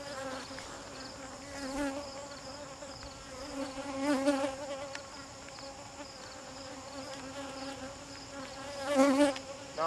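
Honeybees buzzing around a cedar top bar hive during a honey harvest, a steady layered drone close by that swells louder a few times as bees pass, with no talking.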